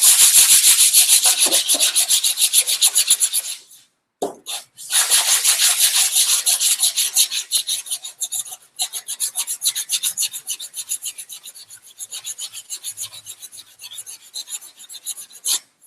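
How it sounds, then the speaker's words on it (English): Rhythmic, raspy back-and-forth strokes of a sanding block on body filler, loud and close, with a couple of brief pauses between passes. "how quickly you could get dents out with just a little block sander"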